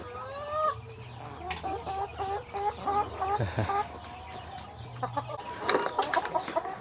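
Cage-free backyard chickens on a poultry farm in Cebu cluck in repeated short, stacked calls close by, several birds overlapping in busy bursts over a low background hum.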